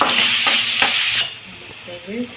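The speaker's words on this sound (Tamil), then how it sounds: "இஞ்சி பூண்டு பேஸ்ட் நல்லா வதக்கி விட்டுக்கணும்" Ginger garlic paste sautéed in a pan with cinnamon and cloves for a quail roast, a loud bright sizzle with scraping stirs that cuts off abruptly halfway, leaving faint kitchen sounds.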